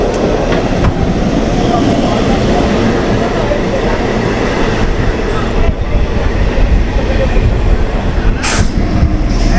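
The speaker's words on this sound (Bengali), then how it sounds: "সোদপুর 1 নম্বর স্টেশনে ট্রেন ঢুকে গেছে" A local train pulls into platform 1 at Sodepur station, a loud continuous rumble of wheels and carriages close by with rattling clatter and a brief high screech near the end, steady throughout.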